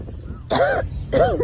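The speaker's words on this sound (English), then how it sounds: "that last yell made me cough" Two short, raspy coughs a moment apart, close to the microphone, with quiet between them.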